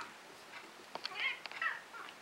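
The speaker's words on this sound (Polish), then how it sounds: "Sniki, co miauczy?" A house cat gives a couple of short, fairly close meows with small scuffs in between, clear against a quiet indoor room and no talking.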